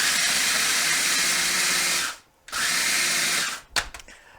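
A food processor pulses graham crackers into crumbs, two long loud whirring bursts separated by a brief stop, then a short final pulse and clatter as the motor winds down; no talking.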